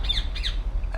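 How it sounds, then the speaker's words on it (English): A bird in the video game Republique gives three sharp squawks in quick succession, harsh and fairly close, each a short raspy burst with brief gaps between. No speech covers them. "What the hell's up with that bird?"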